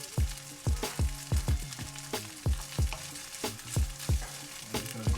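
Salmon fried rice ingredients sizzle and fry in a pan, loud and close, with repeated rhythmic scraping and stirring strokes over a steady hiss and no voices.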